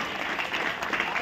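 An audience at a hypnosis magic show claps in a brief, steady burst of many hands at moderate loudness, with no voices standing out.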